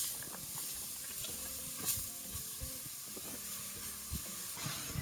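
Onion sizzling in olive oil in a pan while a beef stroganoff is made, a steady close frying hiss with spitting crackle and occasional stirring clatter, no talk.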